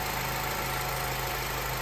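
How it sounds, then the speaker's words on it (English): A Honda Element engine with radiator fans that are not coming on idles steadily, a constant close mechanical hum with a low droning tone and no other sounds. "So let's go ahead and start the engine."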